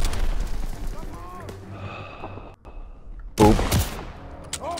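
Gunfire in the World War II shooter Call of Duty WW2, sustained battlefield shots and booms under voices, with a sharp louder burst near the end.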